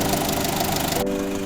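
A 2000 Mitsubishi Lancer GLXD diesel engine running steadily, a loud, close, even idle drone that continues without pause.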